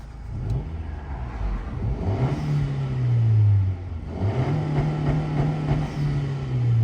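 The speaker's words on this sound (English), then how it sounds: "It sounds a little more growly, if you will." 2022 Honda Civic Si engine with a PRL Stage 1 intake revving twice, each rev rising to a loud sustained growl and then dropping back, heard up close with no talk.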